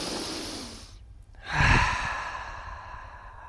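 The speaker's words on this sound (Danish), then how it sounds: "Og så trækker vi vejret så langt ned som muligt" A deep breath out during a calming stress-release exercise: a long airy exhale, a brief pause, then a fuller, louder breath with a soft sighing tone that fades slowly, close to the microphone and with no talking.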